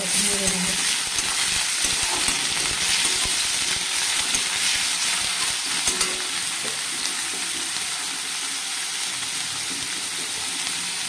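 Onions sizzle and fry steadily in a pan with a dense hiss, occasional stirring scrapes breaking through, while someone talks softly over the cooking.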